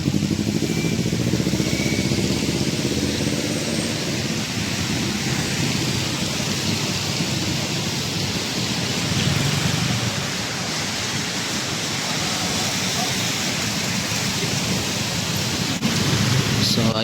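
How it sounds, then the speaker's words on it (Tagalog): Steady, heavy rain pours down in a dense, continuous roar, with no voices. "nabutan tayo ng ulan"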